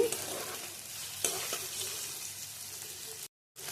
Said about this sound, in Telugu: ఉల్లిపాయలు, పచ్చిమిరపకాయలు ఎర్రగా వేయించుకోవాలండి